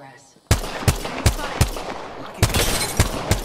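Gunfire in a squad-based battle royale video game, a series of sharp, loud shots at irregular intervals, some in quick pairs, heard up close with a brief voice underneath.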